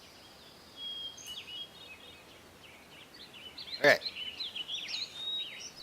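Birds chirp outdoors in a steady stream of high, thin calls. They sit faintly behind a voice and a sharp click.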